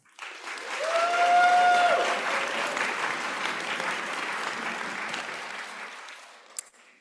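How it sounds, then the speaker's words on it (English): A commencement audience at a pharmacy school graduation breaks into applause, swelling quickly to a loud, sustained roar of clapping in a large hall before tapering off, with a faint whistle early on. "Graduates, please take a moment to recognize your greatest supporters with a round of applause."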